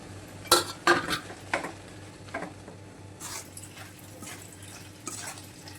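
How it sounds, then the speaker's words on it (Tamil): Cooked rice being mixed into tomato thokku in a pan for Arya Bhavan style tomato rice, with a few sharp spoon clinks early on, then soft scraping and stirring. "இப்போது நான் உதிரியாக ஆக்கி வச்சுருக்க சாதத்தை இதில் போட்டு மிக்ஸ் பண்ணிக்கலாம்"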